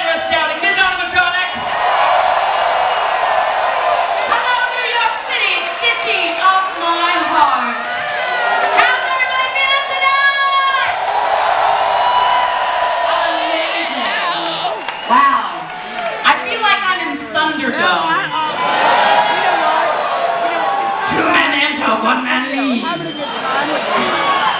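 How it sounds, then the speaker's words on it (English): A New York concert crowd roars, whoops and cheers continuously throughout, loud and dense, with individual shouts rising above the mass. "give a big old hometown roar of applause to my partner"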